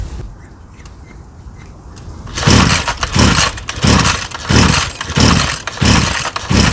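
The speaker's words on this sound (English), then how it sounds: "Alright, she won't start up anymore" A small engine being pulled over again and again as it fails to catch, a loud rhythmic burst of cranking strokes about every half second after a quieter stretch, close by with no talk.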